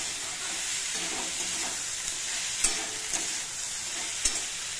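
Capsicum, beans and tomato sizzle steadily as they fry in a pan, with occasional scrapes and taps from stirring breaking through the constant hiss.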